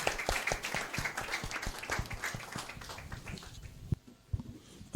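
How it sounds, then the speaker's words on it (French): A church congregation applauding for Jesus, with dense rhythmic clapping that fades out near the end, mostly alone with little talking. "Est-ce qu'on peut applaudir puissamment pour le Seigneur Jésus-Christ?"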